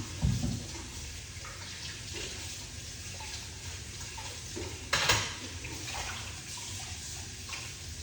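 Tap water runs steadily over a cucumber being washed in a kitchen sink, a continuous close hiss with a few soft splashes and a brief louder burst partway through.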